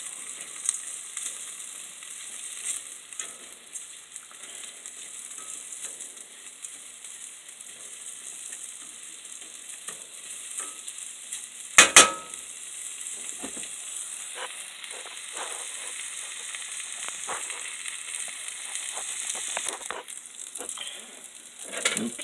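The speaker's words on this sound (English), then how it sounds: "just stirring it like this and keeping that rice kind of moving around a little bit" Rice frying in a pan gives a steady sizzle and hiss while it is stirred, with light scraping and patter now and then and one sharp clack near the middle.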